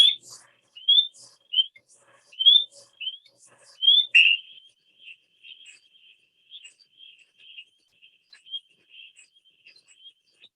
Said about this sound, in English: So the first we hear is the spring peeper.